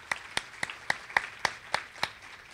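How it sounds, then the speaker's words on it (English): Rhythmic clapping at a panel event honouring speakers, about eight evenly spaced sharp claps, close and distinct over quiet background. "So another round of applause, please,"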